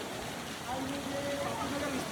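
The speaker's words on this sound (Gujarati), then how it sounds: "ખૂબ જ વિશાળ આજે વરસાદ વરસી રહ્યો છે." Heavy monsoon downpour in the Bapunagar area, a steady dense hiss of rain on surfaces and water, close and continuous with no voices.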